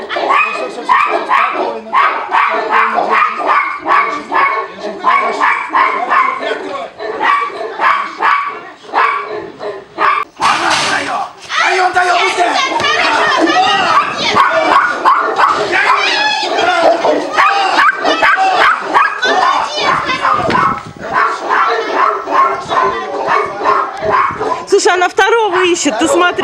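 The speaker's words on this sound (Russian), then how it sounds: "Идеальная собака." A huge Tibetan mastiff barks repeatedly in rapid, loud, close bursts, with yips and whimpers mixed in, while people talk and shout nearby throughout.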